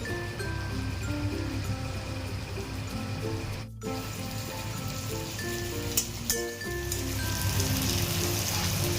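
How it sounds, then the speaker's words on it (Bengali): Tomatoes and green chillies frying in a pan for a prawn and potato curry, a steady rain-like sizzle running throughout, briefly interrupted, with no talk. "আরও আঁচ কমিয়ে 10 মিনিট ভালো করে ভেজে নেবো, টমেটোটা সিদ্ধ হয়ে যাবে"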